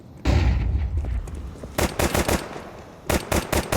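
Glock pistol gunfire in Counter-Strike 2 at a competitive match: one loud blast, then two tight rapid bursts of several sharp shots each, close and punchy.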